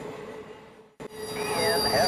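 A freight train passing a trackside defect detector, with a sudden thump and then rising metallic wheel squeal that grows louder and nearer, whining tones sliding over a steady rail rumble.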